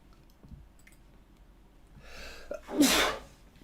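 A single sharp sneeze, close and sudden after a moment of quiet room noise, with a brief intake of breath before the burst.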